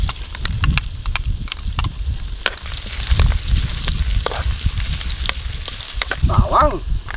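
Ginger frying in a hot pan for coffee beef, a loud, continuous close sizzle broken by sharp clicks and scrapes of stirring, a hissing spatter rising near the end.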